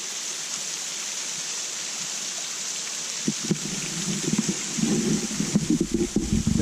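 Steady rushing roar of a waterfall near Mt Inglis, a constant broadband wash of falling water with brief low knocks and rustles near the mic in the second half.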